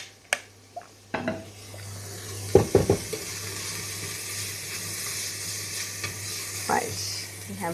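Onions fry in a pan with a continuous close sizzle, opened by a few sharp utensil knocks and a quick cluster of stirring clatters, the hiss steady and loud with no voices.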